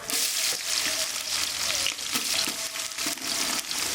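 Whole spices and green chilies fry in hot oil for chicken leg biryani, a continuous loud sizzle with a few stirring scrapes, close by and without talk.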